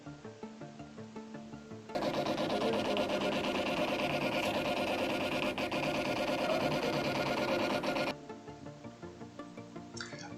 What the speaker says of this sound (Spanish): tendremos que utilizar una impresora chiquitita como esta